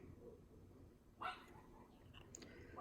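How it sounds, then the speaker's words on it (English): A dog barks once, distant and somewhat muffled, from a backyard, with a fainter second yelp near the end over steady low room hum. "Sorry if you hear the dogs, they're in the backyard."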